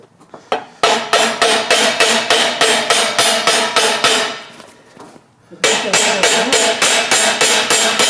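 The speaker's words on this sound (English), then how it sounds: "I'll try it with a hammer." Rapid, loud metallic hammer strikes in a steady rhythm while fitting a gearbox ring gear, pausing briefly before resuming at the same quick pace, ringing close by.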